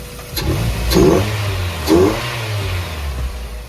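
A Mazda MX-5 Miata engine revs twice with a deep, throaty tone and no rattle, settling back to a rumbling idle between bursts; close and fairly loud.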